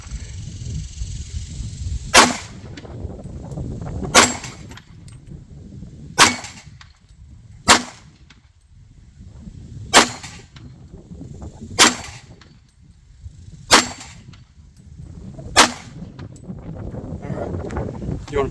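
Pistol shots crack out at a shooting range, about nine sharp, loud reports spaced every couple of seconds, with wind and low background noise between them.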